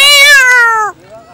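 A man imitates a cat's meow with one loud, close, drawn-out nasal yowl that bends downward and drops into a softer tail.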